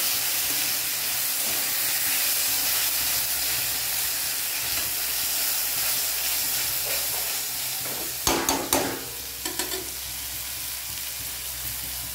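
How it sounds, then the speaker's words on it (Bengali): A pressure cooker on the stove cooking rice gives a steady, loud steamy hiss throughout, with a brief burst of sharper sputtering and clatter near the end. "আমি ভাত সবসময় প্রেসার কুকারে করি"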